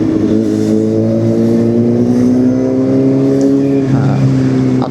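A QJ SRK450RR motorcycle exhaust revs loud and close, a strong harmonic engine drone that climbs steadily in pitch, then drops back near the end.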